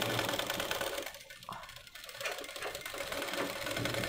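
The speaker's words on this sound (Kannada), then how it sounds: "ಹೆಮ್ಮಿಂಗ್ ಮಾಡಬೇಕಾದ್ರೆ ಯಾವ ಥರ ಮೆಥಡ್ ಉಪಯೋಗಿಸ್ತೀವೋ ಆ ಥರ ಸ್ಟಿಚ್ಚನ್ನು ಹಾಕೊಂತೀನಿ ನಾನಿಲ್ಲಿ" A sewing machine runs steadily, stitching a hem on smooth, slippery fabric for an umbrella dress, its fast mechanical whirr continuous and close throughout, dipping briefly midway before resuming at full pace.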